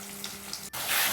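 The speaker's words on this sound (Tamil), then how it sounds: "வெங்காயம் போட்டு நல்லா வதக்கி விட்டுட்டு" Onions sautéing in a pan, a steady close sizzle that swells louder toward the end with a brief dip midway, with no talking.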